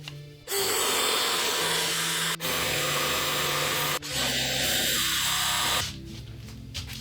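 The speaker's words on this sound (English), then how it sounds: "we're just going to drill them out" A power drill with a large bit whirs loudly in three bursts separated by brief pauses, its pitch shifting as the bit bites into the wood of a guitar body, then winds down.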